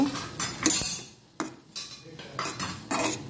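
A metal utensil scrapes and clinks against a pan while spiced gourd is stirred, with several sharp irregular knocks and scrapes close up and short quiet gaps between them.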